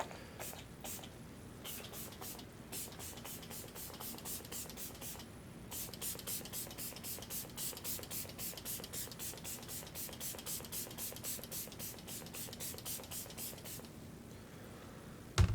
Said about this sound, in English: That is a very light mister too